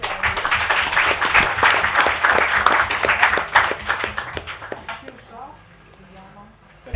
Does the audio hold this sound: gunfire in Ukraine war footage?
no